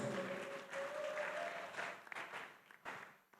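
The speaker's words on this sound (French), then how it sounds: "Clap for the King of Kings." A church congregation claps during praise worship, a dense burst of applause that thins into scattered claps and fades near the end, with a faint tone under the start.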